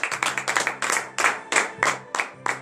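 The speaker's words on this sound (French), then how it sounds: "veuillez vous lever sur vos pieds et donner de vives acclamations à notre Seigneur Jésus." A congregation at a morning prayer service in Comè, Benin, claps in a steady, rhythmic beat, the sharp hand claps repeating evenly and close by.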